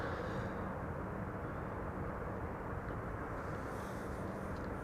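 Airbus A340-600 airliner arriving on the Polderbaan runway after a long flight from Paramaribo, a steady, broad, distant jet roar holding level throughout with a faint hiss rising toward the end.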